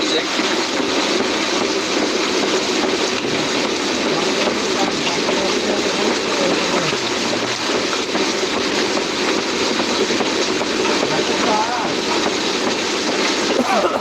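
Steady rumble and rattle inside the moving Sealdah–Ajmer Express passenger train near Kanpur, a continuous broadband roar with faint clattering throughout and no talking.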